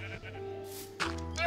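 Sheep bleating in the game Minecraft, a short wavering bleat that stands out near, with a second bleat rising at the end over steady game ambience.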